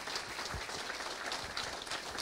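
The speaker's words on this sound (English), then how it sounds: "Mahala Cox, give her a round of applause." Audience applause at a Knoxville Raceway Hall of Fame induction ceremony, a steady, fairly faint outdoor patter of clapping that holds evenly throughout.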